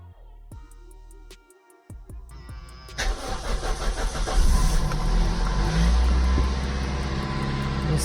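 A 2000 Toyota Celica, just back from brake work, cranks briefly with a whirring starter, catches, and settles into a loud, steady close-up idle with a slight rev as it fires.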